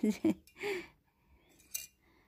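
A spoon clinks and scrapes against a cup while stirring tea, a few quick taps near the start under light talk, then fading to quiet.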